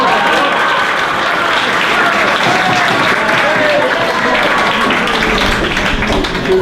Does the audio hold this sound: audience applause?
yes